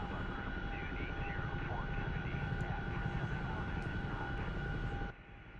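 Helicopter engine in the DCS World flight simulator, a steady loud turbine drone with a rotor hum that runs throughout, then drops off abruptly near the end, with talk faintly present under it.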